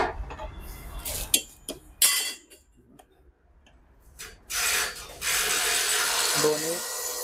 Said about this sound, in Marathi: फक्त हे लूज करायचे नट बोल्ट.